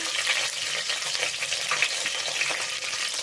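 Garlic and a single green chili sauté in a hot pan, giving a steady, close, dense sizzle with faint stirring scrapes throughout and no voices.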